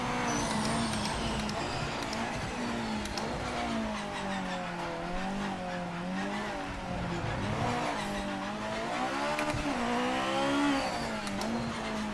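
A GT500 race car engine roars steadily in the video game Project Motor Racing, pitch rising and falling through gear changes, with occasional tire squeal, loud and continuous with no talking.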